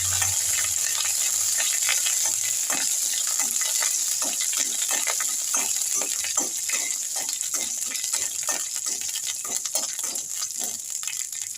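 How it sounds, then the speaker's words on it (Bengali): A little water goes into a pan of fried curry leaves and mustard seeds in hot oil for homemade dhokla, producing a steady close hiss with scattered pops and bubbling that fades slightly, no voices. "কারি পাতাটা ভাজা ভাজা হয়ে গেছে, আমি ওর মধ্যে একটু জল দিয়ে নিয়েছি"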